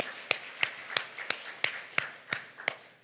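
A church congregation at a Korean festival worship service claps in a steady rhythm, about nine even, crisp claps at moderate distance with no talking.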